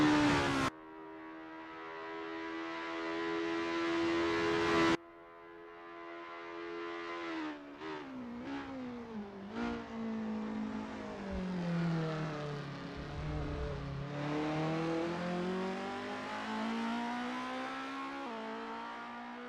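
Engines of 1960s-style formula race cars at Lake Garnett in a racing game, a loud tonal drone with rising and falling revs as several cars warm up, one steady note cutting off before others climb and sweep past, no voices.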